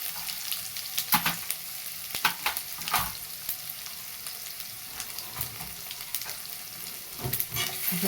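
Whole spices and ginger-garlic paste crackle in hot oil, bright popping sizzle with several sharp spatters and spoon clinks against the pan, close up and without any voices.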